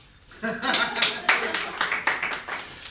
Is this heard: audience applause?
yes